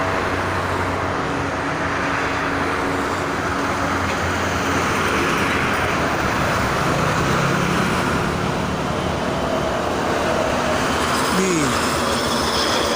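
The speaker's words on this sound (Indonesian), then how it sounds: "Bis-bis Jawa yang menjelang maghrib ini bermunculan." Steady roadway traffic on the Jakarta-Cikampek toll road near dusk, with buses and cars passing in a continuous loud broadband roar and occasional rising engine tones, while a person talks over it throughout.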